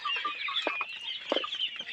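Desi chickens cluck in short, uneven bursts close by, a small flock chattering steadily with occasional louder calls and no voices.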